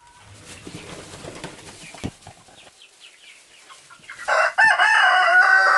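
Chickens cluck and chirp in soft, scattered bursts, followed by a loud, near rooster-like crowing call at the end.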